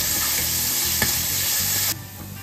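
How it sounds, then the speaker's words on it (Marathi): Chopped onion frying in hot oil for pav bhaji, a steady close sizzle with a brief stir partway through before the sizzle softens near the end. "आता कांदा छान आपल्याला गोल्डन रंगावर येईपर्यंत परतून घ्यायचा"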